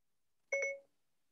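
A short electronic chime from an iPhone as Siri activates, a single brief tonal bleep, near and clean against a quiet room with no talking.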